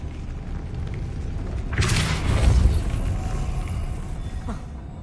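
Depulso spell cast at a mechanism in Hogwarts Legacy, setting it spinning: a broad whooshing burst with a low rumble swells near the middle and fades over a faint ambient bed, ending in a small tick.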